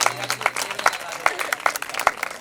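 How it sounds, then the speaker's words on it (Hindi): Audience clapping at a Jain religious ceremony, a short burst of scattered, uneven claps close by, with a voice speaking over it. "तालियों का उद्घोष करिएगा"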